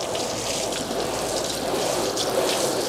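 Water steadily rinses down the side of a caravan, a continuous broadband hiss and splash at constant, fairly loud level with no pauses.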